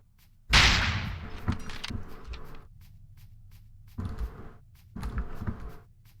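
Ruger shots in a video game: a sharp, loud crack followed by a decaying tail, then two weaker bursts a few seconds later, with no talking over them.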